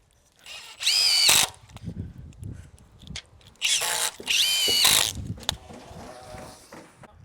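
A power drill drives screws into the frame of a motorized sectional garage door, two loud whirring bursts with clicks and handling noises between them.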